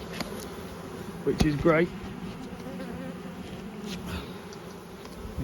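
A swarm of bees humming steadily around beehives, a continuous close drone throughout, with someone speaking briefly over it and occasional louder passes.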